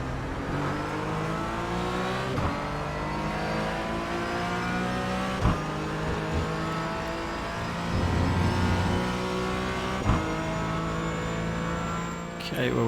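Porsche Cayman GT4 race car in iRacing at Silverstone, engine droning steadily at high revs throughout with rising and falling pitch through gear changes, brief louder bursts as shifts and kerb hits punctuate a continuous close onboard roar.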